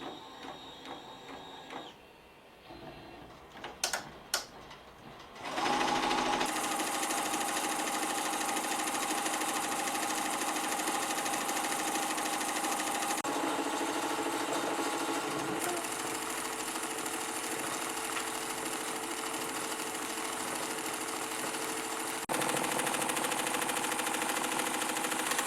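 An embroidery machine stitches a design onto a bag, starting after a few clicks and beeps, then running as a steady close mechanical whir and rapid needle chatter that shifts slightly in pitch, with no speech.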